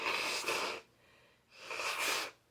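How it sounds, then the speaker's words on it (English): Two forceful nose blows separated by a short pause, close and loud, with no talking. "I need to blow my nose."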